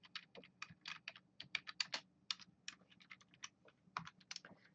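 Code is typed on a computer keyboard in a quiet room, with rapid, uneven bursts of crisp key clicks close to the microphone and brief pauses between them.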